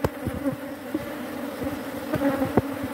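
Honey bees buzz densely and close by during a summer beehive inspection, a steady droning hum with individual bees passing near.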